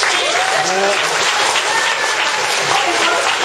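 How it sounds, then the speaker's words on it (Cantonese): A large audience at an evening stage event applauds continuously, a dense, steady clatter of many hands clapping that fills the room for several seconds. "嘅掌聲咧就俾我今日在場嘅女士。"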